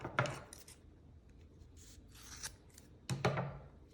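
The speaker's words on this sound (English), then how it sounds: "then you're gonna take your scissors and you're gonna cut that." Scissors cutting through lined-up strands of material at a dip dye workshop, two crisp snipping cuts about three seconds apart, close and clear against quiet room tone.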